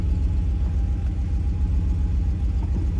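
A Porsche 911 engine idles steadily with the clutch pedal held down as it shifts into reverse, producing a close, even, low mechanical rumble with no grinding.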